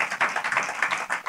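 A church congregation clapping in praise to God, a steady, rhythmic run of hand claps close by, with no voices over it.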